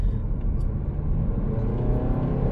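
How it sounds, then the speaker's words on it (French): A Volvo V60 diesel engine revving from inside the car, a loud, steady low rumble with a slight rise in pitch and no voices. "c'est pas un bruit diesel chiant"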